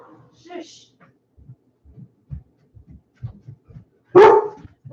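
A dog barks in a sudden loud burst near the end, after a stretch of quiet low thumps and faint movement indoors.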